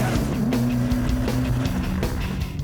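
A twin-turbo C6 Corvette engine roars steadily at full throttle and high revs, loud and continuous, with a low droning tone that holds throughout.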